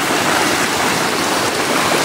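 Floodwater rushes over a fish pond during a typhoon, a loud, unbroken roar of flowing water, close and dense with no voices.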